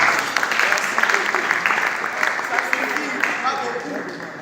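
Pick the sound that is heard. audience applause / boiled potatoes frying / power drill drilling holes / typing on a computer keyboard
audience applause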